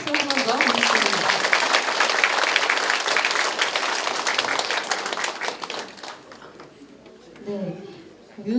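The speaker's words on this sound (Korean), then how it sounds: "뜨거운 박수 한 번 더 부탁드립니다." Warm applause from the audience at a campaign office opening ceremony in Mapo, thick clapping for about six seconds that fades out, followed by a voice speaking afterward.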